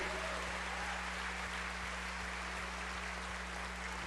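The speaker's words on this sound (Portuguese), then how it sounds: "Vamos dar uma linda salva de palmas" Worshippers at a Sunday morning church service give a sustained round of applause, a dense, even wash of clapping over a low electrical hum.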